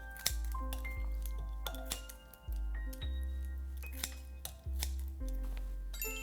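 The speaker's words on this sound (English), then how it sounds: "And we're going to chop it briefly, roughly." A knife roughly chops kimchi on a cutting board, sounding as sharp, clicking knocks with dull thuds, spaced about every half second to a second and heard up close without talk.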